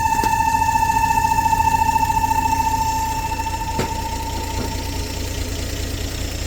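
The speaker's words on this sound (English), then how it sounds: "Gotta love these old engines." A 1954 Chevy Bel Air engine, revived after sitting for 40 years, idles steadily with an even, slightly uneven-knocking pulse and a constant tonal whine, close and fairly loud with no talking.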